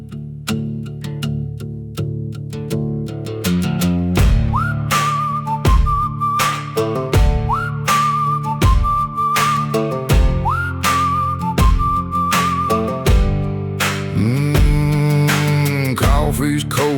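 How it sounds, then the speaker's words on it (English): Melodic whistling rises over a plucked, twangy guitar accompaniment, repeating a short sliding phrase several times across the passage. "Whistle cuts through the morning haze."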